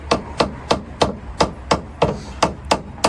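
Hammer blows on a car, likely bodywork, during a roof-down convertible repair ahead of an MOT: nine sharp, evenly spaced metallic whacks at a steady rhythm, close and loud with no talking.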